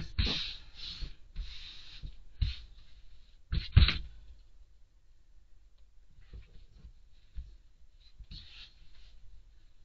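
Cloth for African native wear is cut with scissors in short bursts of crisp snipping and rustling, several close cuts early on, then a quieter pause before a few softer, scattered snips.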